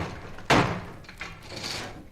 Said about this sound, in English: That heavy sound is the beater packing the threads tightly together.